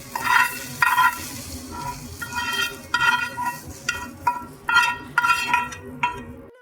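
Fried capsicum is stirred in a hot, oily pan and scooped out, with repeated scraping and stirring strokes over a soft, continuous sizzle, close up and fairly loud.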